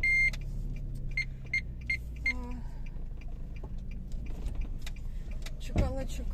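A car running at low speed, with a steady low engine and road rumble throughout, a few short beeps and a brief mechanical whine near the end, and no talking over it.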